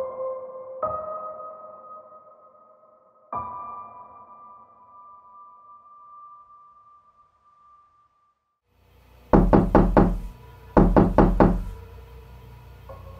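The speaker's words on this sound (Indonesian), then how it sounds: "Seseorang mengetuk pintu kamar Sri" Someone knocks on a bedroom door: a few distant, resonant knocks with long ringing decay, then two tight bursts of four or five firm raps each, close and loud, with quiet between.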